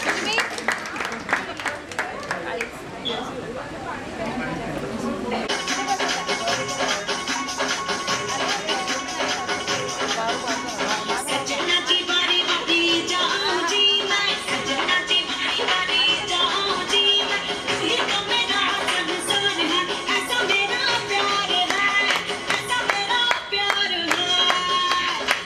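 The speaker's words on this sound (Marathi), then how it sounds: "एकदा जोरदार जोरदार तुमच्या टाळ्या होत्या." At a sangeet celebration, guests clap after the bride's mother performs. Dense, steady clapping builds after a few seconds and continues loudly for the rest of the clip, with voices mixed in.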